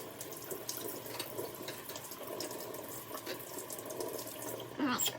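A ham hock rinsed under a running kitchen tap, a steady close rush of water splashing into the sink with small shifts as the meat is turned, no speech over it.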